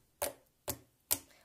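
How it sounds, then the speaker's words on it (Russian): Three crisp clicks from a glossy slime being pressed and squeezed, spaced about half a second apart, close and fairly quiet with nothing else around them. "Очень хорошо кликает."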